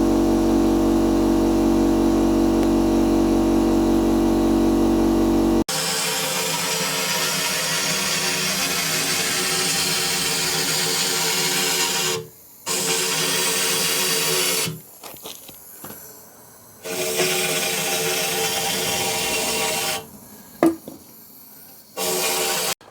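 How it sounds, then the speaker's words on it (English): An air compressor for a spray gun runs steadily and loudly, close by, with a constant motor hum and hiss that cuts out abruptly several times before restarting, during rustproofing work on a Smart ForTwo 451. "Now we're just firing up the air compressor."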